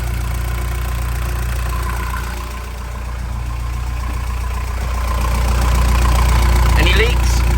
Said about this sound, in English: You got to speak up because the engine is on.